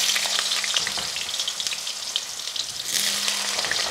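Potatoes slide gently into hot oil with tempering spices for an aloo fry sabji, setting off a steady, bright sizzle that flares up again near the end, close and with no talk.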